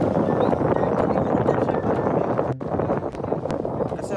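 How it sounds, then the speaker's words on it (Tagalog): Strong wind roars steadily across the microphone outdoors in Barcelona, Sorsogon, a dense, continuous buffeting rush with a brief dip midway before it surges again. "Lakas ng hangin."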